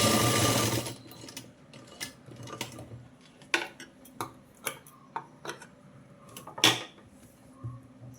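A sewing machine stitching pleats on a fabric puff sleeve: a short burst of fast, steady motor whirring up front, then a quiet pause broken by scattered clicks and taps as the fabric is adjusted.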